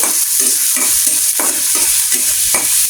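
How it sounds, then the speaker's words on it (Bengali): Onion and chili frying in hot oil in a pan over a fairly high flame for fried okra, a steady bright sizzle with repeated scraping stirs every half second or so, close and loud, no voices. "এখন আমি পেঁয়াজ আর মরিচটা দিয়ে দেবো। লাল করে পেঁয়াজ মরিচ ভেজে নেব।"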